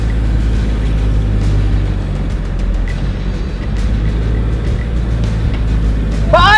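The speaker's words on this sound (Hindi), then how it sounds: "भाई साहब यहाँ पर जो गाड़ी है वो चल रही है फिलहाल।" A small-engine car fitted with giant tractor tyres drives along a road, giving a steady, loud low engine rumble and drone that holds constant throughout without a break.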